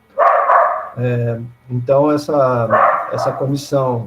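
An agitated house dog barks repeatedly at people arriving, its sharp yaps breaking through a man's ongoing speech.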